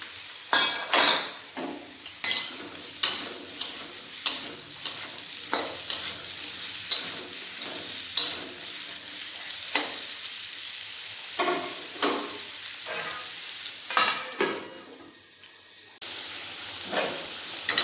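Potatoes and ridge gourd frying in a pan, a soft continuous sizzle under regular, rhythmic scrapes and taps of a spatula stirring them close by.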